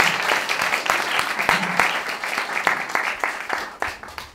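An audience gives a round of applause at a church talk, steady dense clapping that fades out over a few seconds, close and fairly loud.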